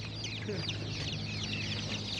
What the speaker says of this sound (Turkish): Köy, köy civcivi mi bunlar?